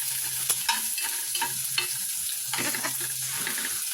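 Garlic sautés in a pan for shrimp sinigang, with a steady sizzle and repeated clinking stirs of a utensil against the pan, close and without speech.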